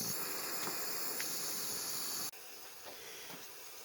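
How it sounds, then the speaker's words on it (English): Little mini torch flame heating a homemade stove that melts a small pot of solder, a steady close hiss that cuts off sharply partway, then a fainter hiss with small ticks. "This is a stove I made, heated by this little mini torch."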